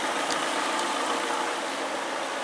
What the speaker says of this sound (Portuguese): Já tá funcionando aí muito bem, sem bater válvulas, redondinho, sem tremer mais, motor bem quietinho, parado